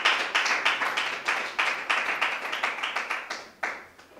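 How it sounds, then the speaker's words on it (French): A church congregation clapping for Pastor John, a small group applauding in a quick, uneven rhythm of close claps that rise and fall over a few seconds. "Acclamez pour le Pasteur John."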